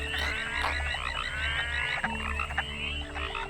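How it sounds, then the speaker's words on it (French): Many frogs croak in a dense forest chorus, loud and continuous, with layered trilling and clicking calls overlapping close by and no talking. "Il existe de nombreux champs de grenouilles."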